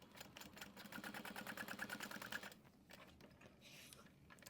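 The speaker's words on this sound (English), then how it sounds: "Make sure it's centered and nice and straight, and we're going to top stitch that down." A sewing machine top stitches a seam on a crossbody bag, a steady quiet run of rapid needle strokes that stops partway, followed by faint handling noises.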